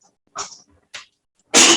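Three short explosive bursts in a quiet classroom, the last a loud broadband sneeze-like blast after two smaller sneezes or sniffs.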